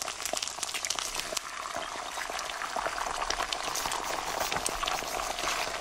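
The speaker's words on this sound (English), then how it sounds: "It's the sound of a frying egg." An egg frying in a pan gives a steady, fine sizzle and crackle with dense little pops, moderately close and continuous, with no voices over it.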